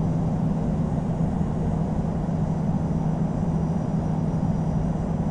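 A Boeing 747-8 jet in the Infinite Flight simulator game roars steadily through a takeoff roll, a dense, unbroken engine rumble with no voices.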